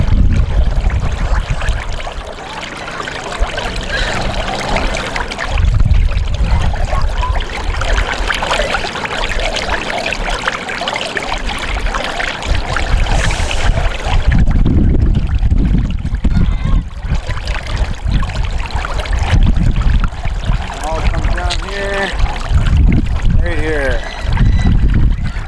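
Water draining and swirling down a whirlpool in a flooded parking lot, a steady rushing, gurgling flow that runs for the whole stretch with some voices talking over it at times.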